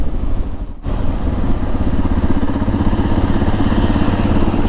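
Motorcycle riding, either a Suzuki DR650 or a KTM 390 Adventure, with a loud, steady engine drone and rhythmic pulsing throughout, briefly dipping near the start before holding even.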